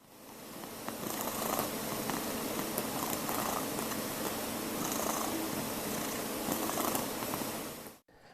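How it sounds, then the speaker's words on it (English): A cat purrs continuously for several seconds, a soft rhythmic rumbling close to the listener, then stops abruptly at the end. "When a cat purrs, the signal constitutes direct evidence of the animal's contented state."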